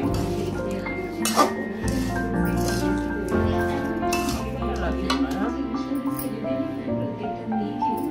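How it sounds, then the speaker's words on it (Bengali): Grated coconut filling being mixed by hand with spices, giving soft squishing and a few light clinks against a bowl, heard close and steady beneath a continuous background of tonal sound. "এখন এটা মিশিয়ে পুরটা করে নেব আর কি"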